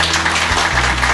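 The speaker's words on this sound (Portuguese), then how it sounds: "uma salva de palmas." Loud audience applause for writer Nélida Piñon, a dense continuous burst of clapping close by, with a low hum running underneath.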